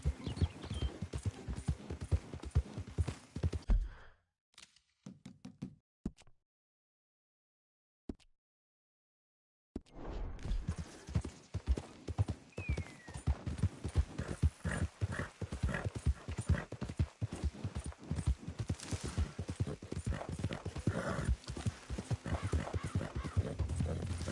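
Horse hooves gallop in Red Dead Redemption 2 with fast, rhythmic clip-clop beats, cutting out briefly to near silence before resuming steady and close.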